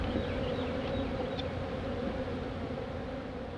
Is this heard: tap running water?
no